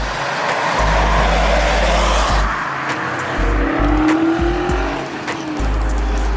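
A Ford Focus race car speeds around a track, its engine roaring loud and close with a brief tire squeal partway through, the sound holding steady before dipping slightly as the car passes.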